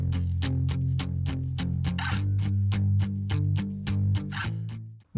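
Muted electric guitar played through a Roland Jazz Chorus amp model with spring reverb and chorus, giving a steady run of short plucked chugs over sustained tones, loud and close with no voices.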